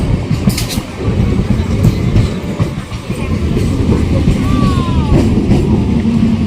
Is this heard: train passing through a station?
yes